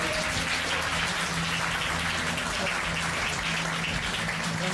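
An audience at an internationalist communist party gathering claps in a dense, steady wash of applause lasting several seconds, with no speech over it.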